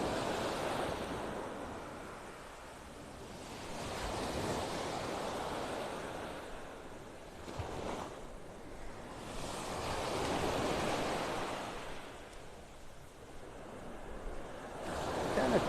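Ocean waves wash steadily onto Vanderbilt Beach in North Naples, Florida, on an incoming tide, a soft continuous surf rising and falling in gentle swells with no voices.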